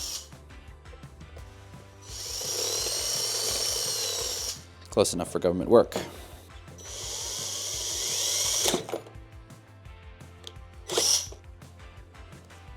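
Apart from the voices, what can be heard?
drill side-cutting a shop heater part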